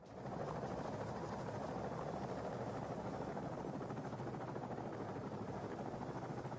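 Steady, loud helicopter rotor drone in a video game set in Afghanistan, a continuous dense whir with pulsing blade chop held evenly throughout, with no voices over it.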